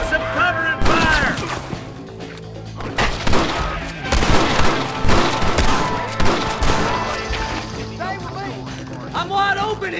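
Rapid, overlapping gunfire bursts in the Western video game Red Dead Redemption, cracking and crashing through a busy shootout with shouted character voices and a music score underneath.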